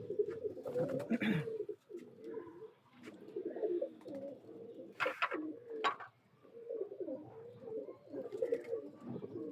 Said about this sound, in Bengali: জোড়া কবুতরটা দেখায়